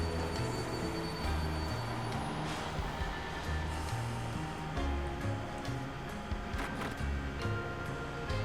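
A train rolls along steadily in the video game Paper Mario: The Thousand-Year Door, its low rumble and rhythmic clatter carrying on continuously with some higher squeaks over the top.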